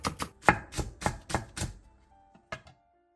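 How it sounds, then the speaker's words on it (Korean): Green onion split lengthwise being finely chopped with a knife on a board, about eight crisp close knocks in a quick uneven rhythm, then a pause and two final chops. "대파 4분의 1개는 길게 반으로 갈라 쫑쫑 썰어주세요"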